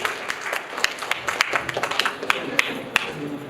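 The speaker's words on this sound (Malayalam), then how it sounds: "നല്ലൊരു കയ്യടി" Applause from an audience at a book release event: scattered, uneven clapping with sharp individual claps standing out, moderately loud and fairly thin, as if from a smallish crowd.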